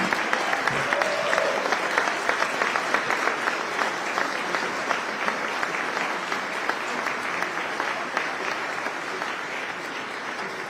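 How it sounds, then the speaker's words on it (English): Sustained audience applause for the President at a tech summit in Miami, a dense steady wash of clapping from a large crowd with faint voices beneath, holding at even loudness throughout. "Please, a round of applause for President of the United States of America"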